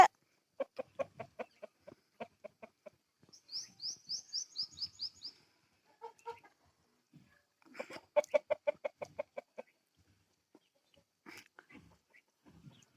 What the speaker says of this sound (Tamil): கருங்கோழி